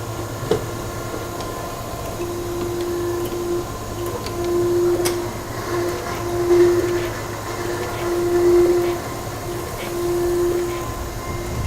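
A surface grinder with a magnetic chuck, automatic traverse and automatic down feed runs with a steady hum. A whining tone rises and falls in regular cycles as the table travels back and forth, fairly close by.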